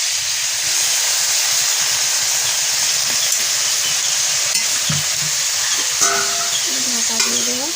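Crab fries in a pan with chili powder and a little water, giving a steady close sizzle and hiss throughout, with a few stirring scrapes and clinks near the end.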